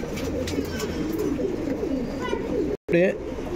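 Tiraval male pigeons cooing at a pigeon sale, soft low coos repeating under a busy background with voices nearby, broken by a brief dropout near the end.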